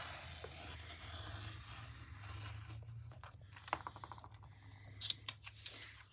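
Scissors snip out an oval of paper for a giraffe craft, several crisp cuts and crinkles close by, with a low steady hum throughout.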